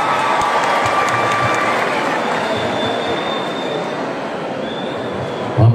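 An audience at a PP party convention applauds, a dense, sustained wash of clapping that holds steady and fairly loud throughout.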